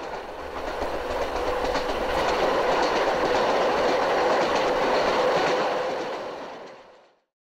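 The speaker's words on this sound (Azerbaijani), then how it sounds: "Səhnənin sonunda isə qatar düz kameranın üzərindən keçir." A train in a film scene thunders directly over the camera, a loud, sustained rumble with rhythmic clickety-clack of wheels that holds steady for about six seconds before cutting off abruptly.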